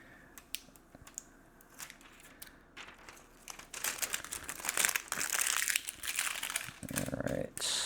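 Protective plastic film being peeled off a new Intel B580 graphics card, a close crinkling and crackling that starts soft and sparse, then grows louder and denser in long tearing pulls.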